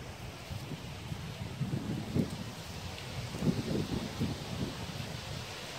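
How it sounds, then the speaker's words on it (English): Gusty wind rushes and buffets a microphone outdoors, a steady low roar with brief louder surges. "It's getting windy"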